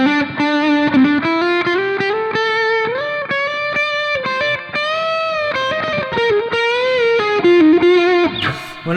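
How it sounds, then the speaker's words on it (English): An electric guitar plays through an amp with spring reverb and an OCD drive pedal in front, a loud distorted melodic line of sustained notes and bends, with no one talking over it. "So I can now introduce a tad of spring reverb."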